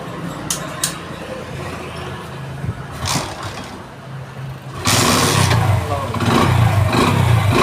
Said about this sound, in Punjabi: ਲਓ ਜੀ ਪਹਿਲੀ ਜਿਹਨੀ ਦੂਜੀ ਕਿੱਕ ਸਟਾਰਟ ਹੋ ਗਿਆ ਪਰ ਇੰਜਨ ਓਕੇ ਆ